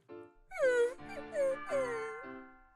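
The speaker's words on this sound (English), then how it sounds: "I heard something like a dog crying." A dog whimpers close by in a quiet eatery with no other customers: three drawn-out, falling, crying whines in quick succession, loud and clear against a still background.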